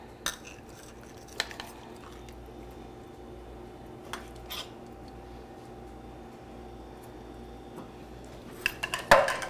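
Chicken with feta goes back into a skillet in a kitchen: quiet background hum with scattered sharp metal clinks and taps, ending in a brief flurry of clatter.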